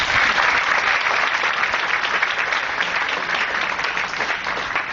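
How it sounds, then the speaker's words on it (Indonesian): Seminar audience applauding a speaker, a loud sustained wash of clapping from a large crowd that tapers slightly over several seconds, with no talk over it. "Aplaus untuk Bapak Evan"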